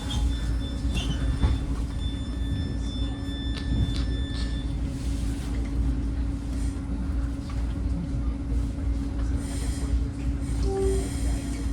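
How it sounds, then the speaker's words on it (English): Southbound Caltrain express 518 pulls out of Sunnyvale, a steady loud rumble of the train heard from onboard with faint squeals and tones over the continuous drone. "Here we are departing Sunnyvale with our next stop being the last stop for this train, Diridon Station in San Jose."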